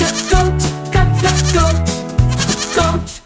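A goat bleats several times in short wavering cries over a steady musical backing, fairly loud and close.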